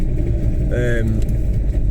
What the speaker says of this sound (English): So what I'm looking forward to is getting my white car out the garage